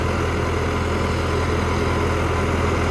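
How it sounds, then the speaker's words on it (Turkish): A 35 kW generator driven from the PTO of a Landini Rex 100 GE tractor runs under load, a loud, steady, unbroken engine drone close by. "Bu arada jeneratör de yük bindiriyor."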